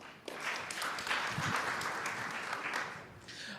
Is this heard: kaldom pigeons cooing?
no